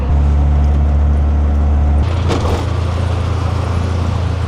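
Mangalmurti Travels bus pulling in for a holiday trip to a Konkan village: a loud, steady low engine rumble that drops in pitch as it settles, with a brief hiss of air brakes or a door partway through.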